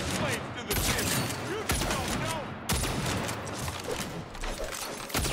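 Shots from guns in the Saints Row video game crack in loud, dense volleys, repeating every second or so, while a voice talks over the gunfire.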